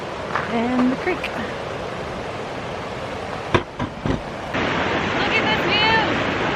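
A mountain creek at a campground near Ouray, Colorado rushes with a steady broadband roar, close and loud, interrupted briefly by wind buffeting and handling bumps.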